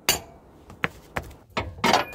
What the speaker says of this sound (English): use a hammer and a sledgehammer and pound it until the axle pops out of the transmission